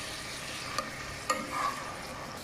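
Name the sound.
frying in a pan before adding ginger garlic paste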